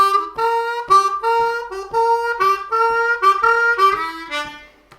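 Blues harmonica lick from a blues tune, played over the five chord: a quick run of sharply tongued, reedy notes in a bouncing rhythm, loud and close, ending on a fading note.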